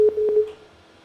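A telephone busy tone after a dropped call, a few short steady beeps that fade quickly, heard alone and fairly loud.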